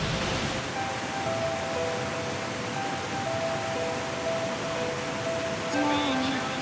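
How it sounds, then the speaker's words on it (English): Ammonite Falls, a large waterfall in Nanaimo, Canada, gives a constant, dense rushing roar that fills the whole stretch evenly and stays loud throughout. "I present to you Ammonite Falls, Nanaimo's grand finale waterfall."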